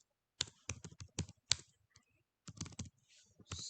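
Typing on a computer keyboard, close and quiet, a quick run of crisp key clicks, a brief pause, then another short flurry of keystrokes.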